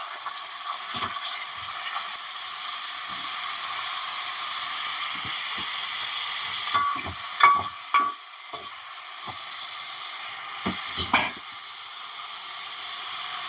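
Chopped tomatoes fry in oil in a pan for a ridge gourd chutney, a steady gentle sizzle broken by several sharp spatula scrapes and knocks as they are stirred, no voices.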